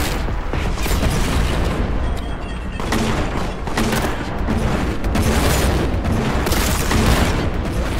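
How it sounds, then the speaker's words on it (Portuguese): Explosive weapon blasts in the shooter Warhammer 40k Boltgun, a dense barrage of loud booming bursts and shots firing rapidly and continuously, close and heavy throughout. "Nossa, ela explode."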